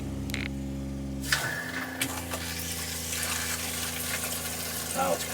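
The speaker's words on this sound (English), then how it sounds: "You can hear the pump priming." An RV water pump primes and draws antifreeze through the plumbing lines: a steady electric hum gives way to a rough, continuous whirring and gurgling rush of liquid close by.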